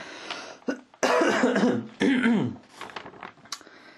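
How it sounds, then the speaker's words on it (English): A person coughs hard twice in close succession, with smaller throat noises and quieter breathy sounds around them. "I'm going to have to cough here, excuse me."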